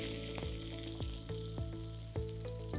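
Ginger, green chilies and onions sizzle steadily in a hot pan for quinoa upma, with a continuous bright frying hiss and periodic soft knocks from stirring roughly every half second.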